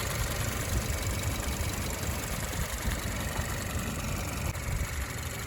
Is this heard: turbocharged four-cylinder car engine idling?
yes